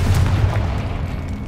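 A Confringo blasting spell goes off in Hogwarts Legacy, a loud, heavy boom with a deep rumbling low end that swells at the start and rolls on steadily for over a second, with no voices.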